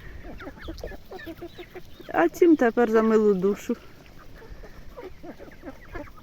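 Chickens cluck loudly and close by for a couple of seconds while a person talks before and after.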